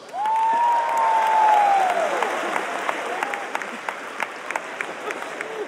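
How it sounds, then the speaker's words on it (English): A big audience at a stand-up comedy show at Madison Square Garden erupts in loud applause and cheering, with a whoop rising above it early, then thins to scattered claps. "round of applause"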